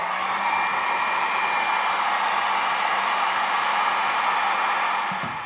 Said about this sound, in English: I'm going to plug in my hairdryer, oddly enough, and use a hairdryer to take that out.